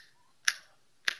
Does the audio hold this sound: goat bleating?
no